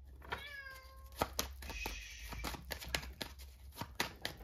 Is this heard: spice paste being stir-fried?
no